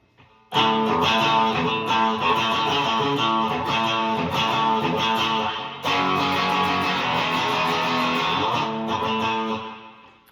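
A loud, bright guitar strums through a run of chords in two sustained bursts with a short break between, dense and energetic, no talking.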